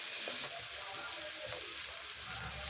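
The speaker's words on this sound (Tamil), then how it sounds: "போட்டு தக்காளியும் போட்டு வதக்கிக்கலாம்." Onion, garlic and tomato sautéing in a pan for a bottle gourd curry: a steady, dense sizzle with faint stirring noises, continuous and close, without speech.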